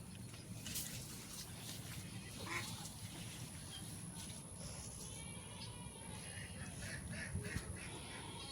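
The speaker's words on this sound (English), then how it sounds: "our ducks are in the ditch" Ducks in a wet roadside ditch after heavy rain give a few scattered, fairly distant quacks over a steady wash of outdoor background noise, with no clear talking.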